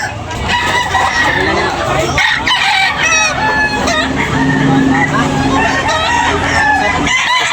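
A white Kelso rooster crows repeatedly and loudly close by in a backyard, among other chickens clucking, with a steady background of voices and distant traffic.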